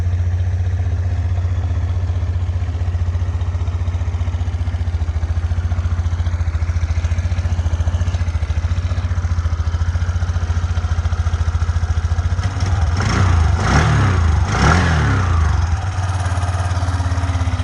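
A cold Suzuki Address V125 G scooter engine idles at raised revs while warming up, with a steady, fast putter, then clatters and revs briefly near the end before settling again.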